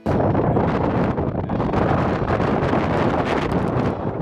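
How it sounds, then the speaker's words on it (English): Strong wind roars continuously at an overlook, buffeting the microphone loudly and close with a dense, unbroken rush and no speech. "the wind was definitely not forgiving"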